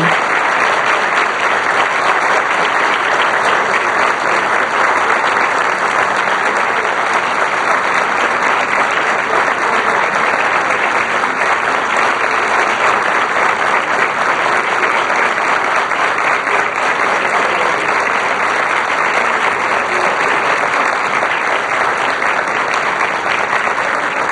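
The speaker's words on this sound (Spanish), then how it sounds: "este aplauso de pie" Standing ovation in the Senate chamber honouring a former official: dense, sustained applause from a large crowd filling the whole stretch at steady loudness, with no talk over it.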